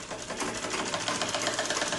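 Sewing machine stitching a blouse, a rapid even mechanical chatter running steadily and close throughout.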